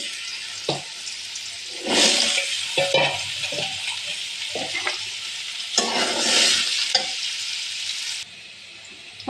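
Potatoes for aloo dum fry in a pan and are stirred, giving a steady close sizzle broken by scraping strokes and louder frying surges, before the sound stops abruptly near the end.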